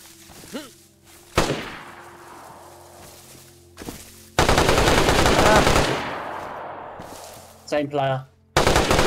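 Automatic gunfire in the DayZ video game erupts in loud bursts, including a sustained rapid volley and later short stutters, with excited voices talking between and over the shots.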